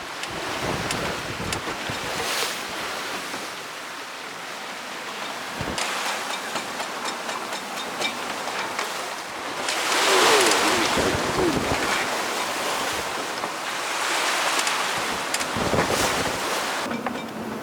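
Wind and rough sea aboard the sailing yacht Zephyr IV, running under jib on a broad reach at about 7 knots in 26 knots of wind between Gosport and Brighton: a steady close roar of wind and waves, swelling around the middle and again later, with no voices.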